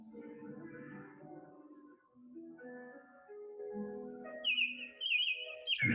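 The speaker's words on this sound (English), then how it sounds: "And then the sound of the birds." Birds chirp and whistle in a quiet outdoor setting, a series of faint melodic calls and tweets with a brighter, higher burst of chirping near the end.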